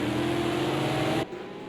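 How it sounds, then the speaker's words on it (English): A race car in a Bathurst 1000 racing video game session floors the throttle out of the last corner, a loud buzzing engine note holding steady before dropping off abruptly near the end, with no voices. "Is Highlander going to floor out there last corner"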